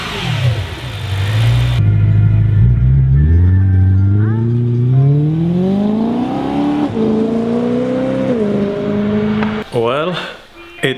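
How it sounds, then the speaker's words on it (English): A BMW E90 M3, freshly rebuilt after a valve cover gasket replacement, starts with a loud crank and catches, then its engine idles and climbs in a steady rising whir before settling, close and loud with a brief break near the end. "we're gonna start it up and see how this baby sounds"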